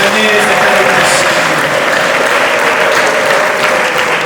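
A church congregation clapping their hands together, a dense, loud, sustained wash of applause filling the room without pause.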